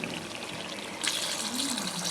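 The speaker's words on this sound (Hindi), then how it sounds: "हुण इन्हां दे विच असीं पानी सटना है।" Water pours into a pot of chicken feet for a paya recipe, a steady splashing rush that grows brighter and fuller partway through, with a faint voice underneath.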